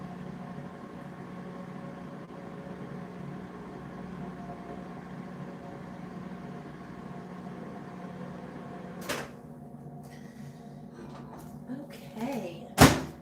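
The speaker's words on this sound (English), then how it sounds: "I know it's probably bad to put my stuff in the microwave, but unfortunately it is the fastest way." A microwave oven hums steadily for several seconds while heating food, a low electrical drone. Near the end, clunks and a few sharp clicks or beeps sound from the door and controls.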